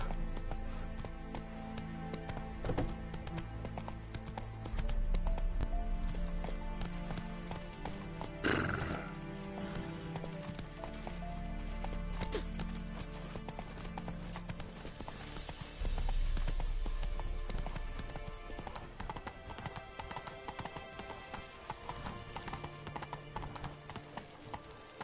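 Horse hooves clip-clop at a gallop in The Witcher 3, with a whinny and rising and falling hoofbeats under a musical game background, moderately quiet.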